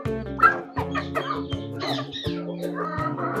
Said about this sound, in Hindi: ये मुर्गा हमारे पास खड़ा है पीला जावा, इसमें दो मुर्गियां हैं हमारे पास काली मियां वाली नस्ल की